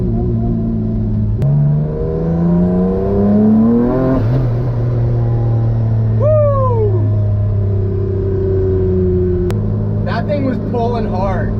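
A twin-engine Mazda MX-3 pulls hard through the gears, with rising engine whine, sharp shift breaks and a turbo flutter or chirp partway through, loud and close from inside the car, with a person talking over it.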